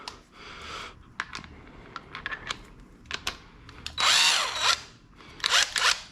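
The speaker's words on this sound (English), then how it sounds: "I'm just gonna use my impact gun" Impact gun spinning off wheel lug nuts on a 2015 Scion tC during a brake rotor job, heard as several short bursts of whirring and rattling, with a long loud run near the end, close up and without talk.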